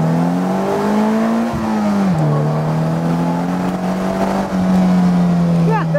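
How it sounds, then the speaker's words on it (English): A 2016 Polaris Slingshot floored in first gear, the engine droning loudly and steadily while the pitch climbs, dips briefly and rises again, close and continuous under road and wind noise. "Let's see what happens when I floor it in first gear."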